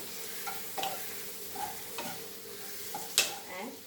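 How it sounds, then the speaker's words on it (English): Broccoli stir-fried with cumin and pepper powder in a pan, a quiet continuous sizzle broken by several scraping stirs and a sharp clink of the utensil, heard up close with no talking. "Stir fry this."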